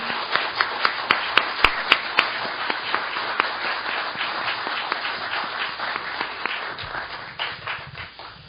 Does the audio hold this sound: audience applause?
yes